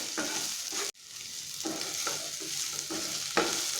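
Cauliflower pepper fry sizzles steadily in a hot pan, with a spatula stirring it in rhythmic scraping strokes and a brief dip in the frying noise partway through; no one speaks.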